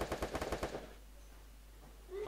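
Rapid burst of automatic gunfire in the Free Fire video game, about eight quick shots in a row, then quiet background.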